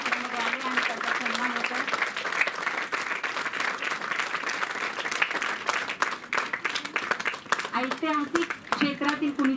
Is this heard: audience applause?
yes